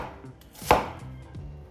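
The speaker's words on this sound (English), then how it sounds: "We're going to be chopping them as much as we can around the onion this way." A knife chops through an onion on a cutting board, cutting thick pieces around the onion for pickling. One sharp, close chop stands out mid-clip against quiet kitchen background, with softer board taps before and after.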